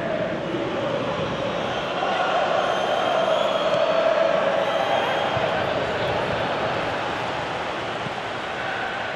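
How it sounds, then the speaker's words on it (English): A large stadium crowd roars steadily throughout in a PES 2018 football video game, a dense wash of voices that swells slightly in the middle before settling back. "you can hear how the crowd are reacting to this too."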